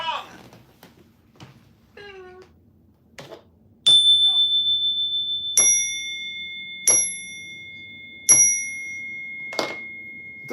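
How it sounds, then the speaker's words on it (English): A gong struck by hand, ringing out in four sharp, sustained metallic strokes a little over a second apart, loud and close after some brief chirpy sounds and small knocks. "Ring the gong!"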